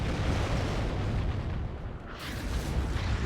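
Whirlwind tank artillery barrage in a Warhammer 30K mod battle game: dense, continuous rumbling booms and blasts, loud and close, with a brief lull in the middle before the roar swells again.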